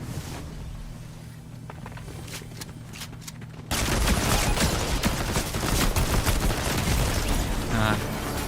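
Rapid bursts of video game gunfire, loud, dense and continuous after a quieter opening stretch, with faint talk underneath.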